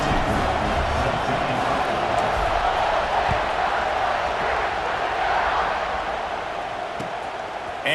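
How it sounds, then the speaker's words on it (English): Stadium crowd in EA Sports College Football 26, a loud, constant roaring buzz filling the space with steady cheering texture, while a commentator talks over it. "this crowd is buzzing after that last score."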